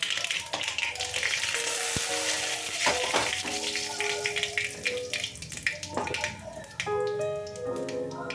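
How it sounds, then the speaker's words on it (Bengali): Cumin, black mustard seeds and a dried chilli fry in hot oil with loud continuous crackling and sizzling close by, broken by sharp pops and metallic clinks of a spoon against the pan. "একটা শুকনো লঙ্কা দিয়ে ভালো করে ফোড়নটা আগে ভাজা করে নিচ্ছি"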